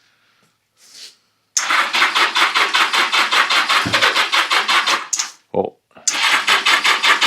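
A 1982 Yamaha 650 Seca motorcycle engine, unfired for years, cranks loudly on its starter in a steady rhythmic churn for several seconds, pauses, then cranks again; a voice briefly speaks.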